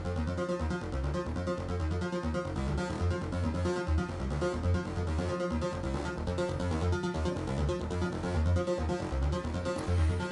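Modular synth sequence from a Dixie oscillator and a Shapeshifter voice routed through an Erica Synths sequential switch, a steady pulsing pattern of rhythmic tones and bass hits playing alone at moderate volume.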